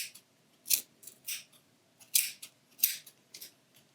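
Scissors snip through yarn while a pom-pom is trimmed, giving crisp close metallic cuts in an uneven rhythm, about eight snips separated by short pauses, with no talking.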